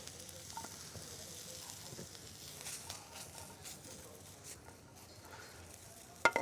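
Mushrooms sautéing in clarified butter in a hot sauté pan give a soft, low sizzle with faint crackles, quiet and steady, ending in a sudden louder clatter.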